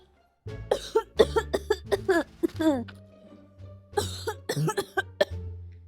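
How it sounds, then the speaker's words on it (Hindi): A child coughs in a rapid series of harsh bursts, a pause, then another burst of coughs, close and loud, in a home setting. "खांसी जा रहा है ये"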